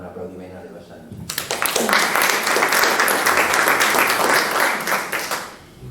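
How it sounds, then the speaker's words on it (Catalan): A short stretch of talk, then an audience at a round-table event in Girona breaks into loud, dense applause that holds steady for several seconds before tapering off at the end. "fem un aplaudiment a l'Eva Sans"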